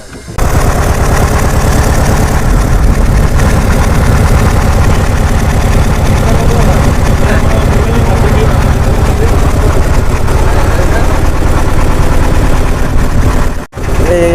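A motor boat engine chugs loud and steady at close range for the whole river crossing, with voices talking under it.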